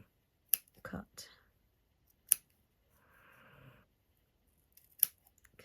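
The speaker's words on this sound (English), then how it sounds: "And then scissors through underneath that weft." Scissors cut through a hair weft on a DIY hair topper: a few crisp, close snips spaced apart in near silence, with a soft brief voice in between.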